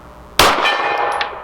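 A 9mm Walther PDP Match steel-frame pistol with a 5-inch barrel fires at a steel gong 50 yards away: one sharp, loud report followed by a bright metallic clang that rings and decays.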